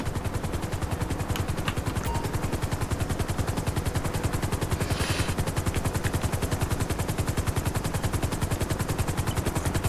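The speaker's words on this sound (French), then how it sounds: "Un hélicoptère du SAMU." An ambulance helicopter sets down in the GTA video game, its rotor producing a loud, steady rapid chopping pulse that fills the whole stretch without pause.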